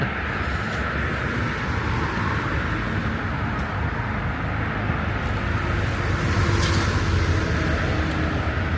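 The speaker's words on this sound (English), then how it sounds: "I hope you can hear us with this traffic." Road traffic passes beside a dark cemetery at night, a loud, steady broadband roar of engines and tires that fills the scene continuously, with no clear breaks between vehicles.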